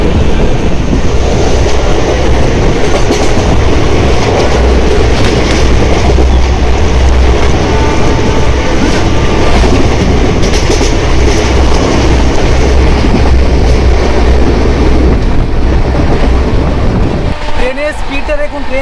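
An express train from Howrah to Jasidih runs at high speed, giving a loud, steady rumble and rattle of wagons with rhythmic clatter from the rails.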